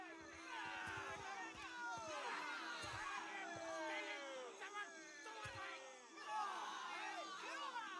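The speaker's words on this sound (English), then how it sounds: "Better see what that crowd's about." Crowd in the video game Pillars of Eternity 2: Deadfire, a dense babble of many overlapping voices murmuring and calling out, steady and fairly close.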